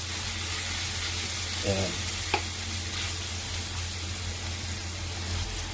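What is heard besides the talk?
sautéing onions and condiments in pan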